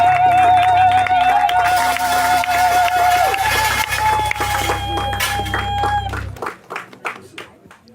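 A crowd acclaims a newly named patriarch with loud applause and cheering under a sustained musical drone. The music cuts out near the end, leaving scattered claps that fade away.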